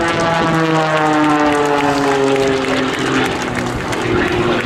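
A Red Bull aerobatic propeller airplane performing at a military open house air show: a loud, sustained engine drone with shifting harmonic pitch as the plane manoeuvres, heard from the crowd with a steady outdoor wash.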